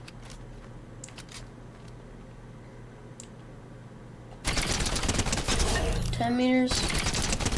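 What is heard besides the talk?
gunfire from a suppressed rifle in Fortnite, video game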